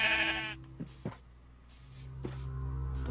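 A sheep in Minecraft gives a short, close bleat at the start, followed by a couple of soft thuds against a low steady hum.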